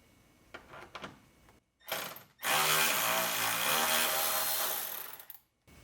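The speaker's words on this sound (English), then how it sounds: "Now we will be removing 2 T25 Torx screws from the airbox inlet." Cordless power tool whirs steadily for about three seconds, backing out T25 Torx screws from a car airbox inlet during a cold air intake install, preceded by a couple of short bursts and light handling clicks.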